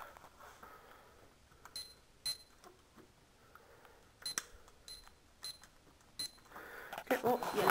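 Several short electronic beeps from a kitchen timer sound in scattered bursts over quiet background noise, growing busier and louder toward the end.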